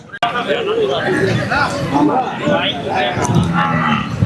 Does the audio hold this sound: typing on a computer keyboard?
no